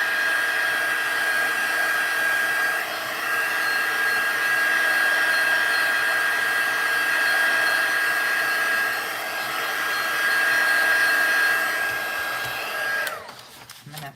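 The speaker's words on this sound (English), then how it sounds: "When I'm drying layers like this, you can see how it's kind of curling up." A hair dryer blows steadily over layers of card, giving a loud, continuous whir with a high whine that holds for about thirteen seconds before it switches off.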